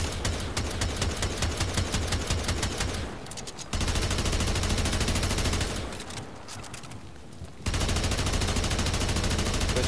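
Automatic gunfire in the Warframe video game rattles in loud, dense full-auto bursts, broken by two short lulls before the firing resumes at the same rapid pace.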